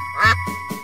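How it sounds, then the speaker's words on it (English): A single nasal duck quack sounds within a children's animal song, followed by two short, softer blips over a steady tonal backing. "Mother duck called with a quack,"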